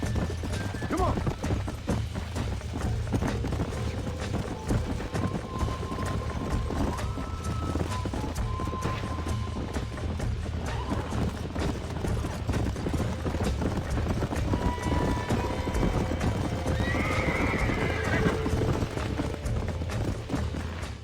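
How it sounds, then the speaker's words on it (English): Horses in the Red Dead Redemption video game, with steady hoofbeats clip-clopping throughout over a low rumbling game soundscape and a brief whinny, while a voice speaks over the action. "These are fine horses."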